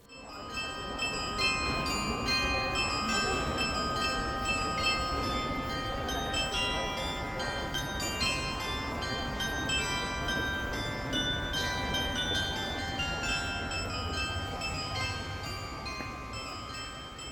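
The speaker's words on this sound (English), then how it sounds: "a carillon, a clock mechanism with bells that chimes daily at noon" Carillon clock bells chiming at noon in Madrid's Art Triangle, many overlapping sustained bell tones ringing steadily and fairly loud for the whole stretch amid a busy outdoor wash, with no talk.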